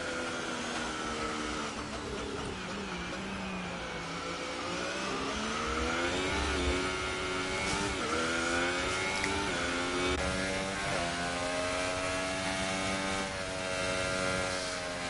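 Race car in a racing game crossing the start line, its engine a steady high whine that rises and falls through gear changes, continuous and prominent with no talk.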